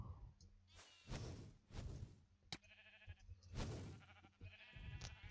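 Sheep in the video game Minecraft give several short, faint bleats, spaced irregularly among soft game sounds and quiet clicks.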